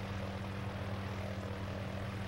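A helicopter flies during an expedition airlift of people and gear, its engine and rotor making a steady, loud, continuous drone with no break.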